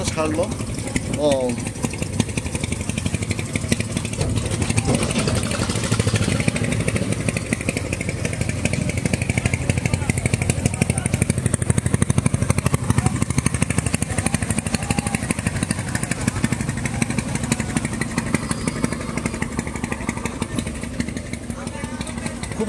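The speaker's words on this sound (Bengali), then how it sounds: "এই ট্রলারটা মাত্র ছাড়লো।" A trawler engine chugs steadily and loudly as the boat pulls away from the busy Sadarghat river terminal on the Buriganga in Dhaka. Its constant rough drone fills the scene, with people talking nearby.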